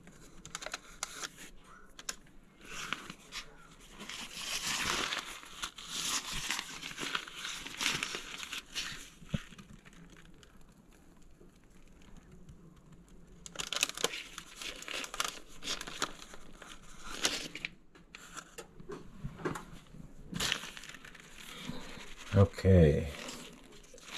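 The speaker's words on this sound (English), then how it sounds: "you keep twisting the bag, twisting and tightening the bag as the amount gets smaller" Plastic piping bag filled with cheese straw dough being twisted and tightened by hand, giving soft crinkling and rustling in bursts with a few sharper crackles near the end, close and fairly quiet.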